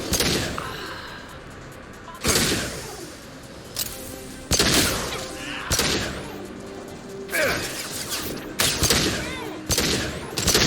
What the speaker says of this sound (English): Taking friendly fire.